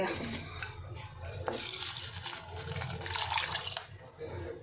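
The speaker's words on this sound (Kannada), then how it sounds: "ಒಂದು ಗ್ಲಾಸ್ ಅಷ್ಟು ನೀರು ಹಾಕಿ" About a glass of water splashing and pouring into a pot of garlic pieces for boiling, a steady liquid rush with some clatter, close by and continuous throughout.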